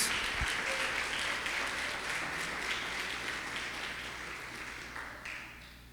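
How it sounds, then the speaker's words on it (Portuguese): A church congregation applauds in praise of Jesus during a sermon, a broad wash of clapping that starts full and slowly fades over several seconds. "pode aplaudir Jesus"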